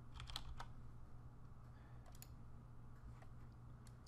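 Quiet typing on a computer keyboard, a string of light, irregular key clicks in small bursts over a low steady background hum, with no voices.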